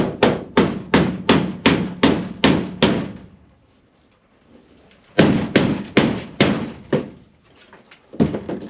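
Loud, regular hammer blows strike in quick succession while installing a serving window in a food trailer, pause for a couple of seconds, then resume in another steady run of sharp hits.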